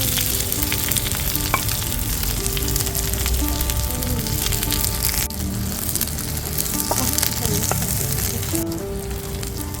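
Onions fry in a teaspoon of oil in a pan over a wood-fire stove, giving a loud, dense, continuous sizzle with crackling and occasional stirring scrapes throughout.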